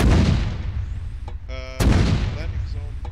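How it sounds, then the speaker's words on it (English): Loud explosions and heavy gunfire from a military battle in the video game Arma 3 during a mortar-team mission, with booming blasts at the start and again midway, and voices talking over them. "Fucking explosions."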